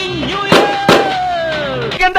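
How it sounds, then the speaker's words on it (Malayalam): New Year firecrackers burst in sharp, loud pops, three separate bangs spaced over about two seconds, with a thin whistling tone trailing between them. "എന്തിനാ ആളുകള് പടക്കം പൊട്ടിച്ചേ?"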